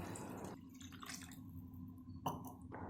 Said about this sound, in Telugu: తర్వాత ఒక గ్లాస్ వాటర్ పోసుకుందాం